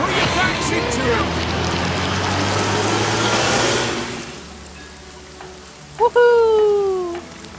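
Steady rain summoned by a rain spirit in the game Divinity: Original Sin, a dense hiss that fades out after about four seconds; voices and tonal game sounds follow.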